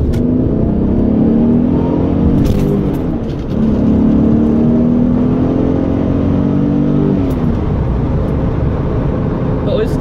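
A 1986 Porsche 928 with a five-speed manual and a non-stock exhaust revving as it pulls away on a short drive, the engine note rising and falling in loud, close sweeps, with someone talking over it.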